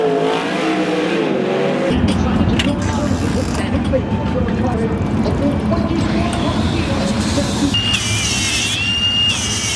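Race cars roar around the dirt track at the Knoxville Nationals, engines loud and close with rising revs, mechanical clatter and a brief high squeal, while people talk under the noise.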